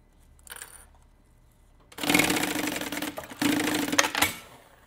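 A sewing machine stitches down the middle of a fabric bag seam, running in two steady, close bursts separated by a brief pause, after a faint rustle of handling beforehand.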